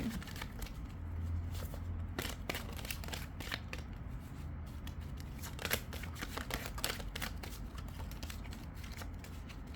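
Tarot cards being shuffled by hand, a steady run of quick papery riffles and flutters close up, without speech.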